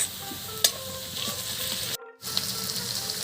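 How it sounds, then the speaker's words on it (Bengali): Garlic paste sizzling in hot oil in a pan with fried chopped onion and bay leaf for an egg and jackfruit curry, with a steady broadband frying hiss, a brief clank near the start and a sudden short dropout partway through. "এবার দিয়ে দিচ্ছি রসুন বাটা"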